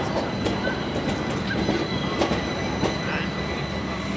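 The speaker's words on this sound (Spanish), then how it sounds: "Aquí siempre hay que tener cuidado de cruzar porque vienen los tranvías" A tram rolls by at moderate distance on a Gothenburg street, a continuous rumble with sharp clicks and a thin squeal from the wheels on the track.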